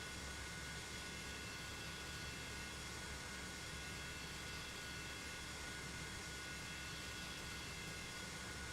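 Jet engine 2 spinning up on an F-5 Freedom Fighter in Microsoft Flight Simulator, a steady broadband roar with a faint high whine, constant and unbroken throughout.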